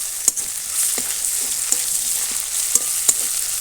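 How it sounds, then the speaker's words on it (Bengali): Onion and garlic fry in a pan with a soft steady sizzle, broken by a few light clicks from stirring, fairly quiet and close, with no talking. "পেঁয়াজ রসুনটা মোটামুটি ভাজা হয়ে এসছে।"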